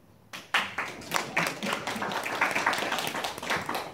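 An audience at a lecture on faith and history breaks into sparse clapping after a brief quiet moment, the individual claps uneven and moderately loud, building into a loose round.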